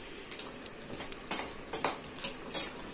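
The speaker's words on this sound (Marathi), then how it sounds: "मी हे खोबरं भाजून घेत आहे आता" Grated coconut being roasted in oil in a pan, with a faint background sizzle under repeated clinks and scrapes of a utensil against the pan, several sharp close knocks in an uneven rhythm, no talking.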